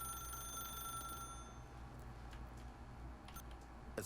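Telephone ringing in The Stanley Parable video game, a steady electronic trill that cuts off partway, followed by a few soft clicks and a sharp click at the end, quiet and alone.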